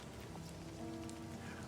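Steady rain falls in the video game Livber: Smoke and Mirrors, a dense even patter that holds at moderate level for under two seconds, with faint tonal game music beneath it and no voices.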